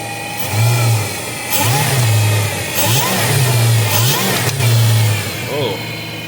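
Supercharged 2003 Infiniti Q45 V8 idling under the hood, then repeatedly blipped by hand at the throttle body, several quick rising and falling revs over a steady idle, loud and close, with a person talking in between.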